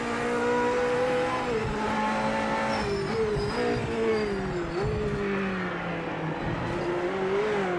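A GT500 race car engine in the racing game Project Motor Racing drones steadily and loud throughout, its pitch rising and falling with gear changes and throttle, with tire squeal and skidding mixed in and no talking.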